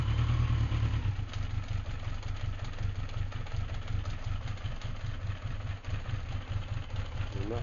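Yamaha FJ1200 motorcycle engine idles loudly with a lumpy, clattering rattle and a brief rev at the start, running steadily close by.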